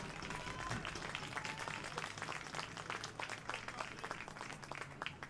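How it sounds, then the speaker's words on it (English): A crowd at a Michigan versus Illinois college softball game claps faintly from a distance, sustained and scattered through the whole stretch. "Applause from the crowd."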